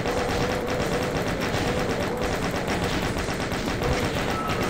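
Chaingunner machine gun fire in Doom II, a dense, continuous rattle of rapid automatic shots that stays loud and steady throughout, layered over busy game noise with no speech.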